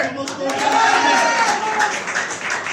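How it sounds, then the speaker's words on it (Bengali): Scattered audience clapping at a gathering, several loose claps mixed with a voice talking over them, moderately loud and close. "বিমান বাহিনী একটা তালি হবে।"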